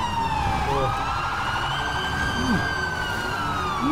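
Police car siren in GTA 5 roleplay, a steady rising-and-falling wail heard throughout, loud and close, with other game noises and vehicle sounds mixed in.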